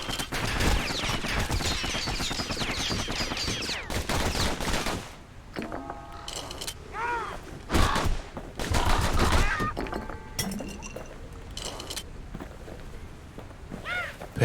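Enemy gunfire in the action game Bastion: dense, crackling volleys of shots early on, then scattered bursts mixed with other combat effects and game sounds.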